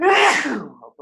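A single loud, close sneeze bursts out, followed by a brief murmur of speech.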